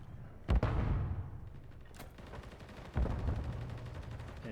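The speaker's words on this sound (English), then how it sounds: "Old Family trying to shoot through a teammate." Gunfire in a competitive Rainbow Six esports match: a loud close burst of shots, then further bursts and a sharp report, over continuous game noise and rumble, with no talking.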